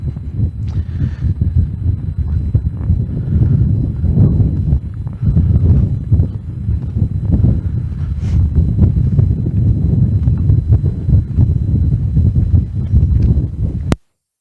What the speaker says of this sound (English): It is a very windy day out today.